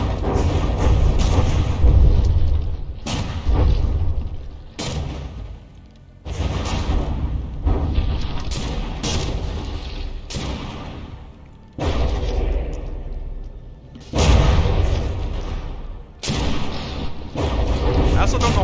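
Battleship main guns in the game From the Depths fire shells in heavy, booming salvos, roughly a dozen loud, close blasts at irregular intervals, each followed by a rumbling decay.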